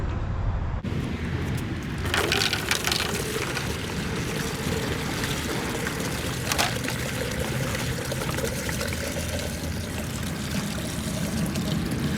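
Vinegar draining out of the gas tank of a Kawasaki Vulcan 800 Classic motorcycle that has sat since 2005, a steady close pouring and splashing stream of liquid that runs unbroken throughout.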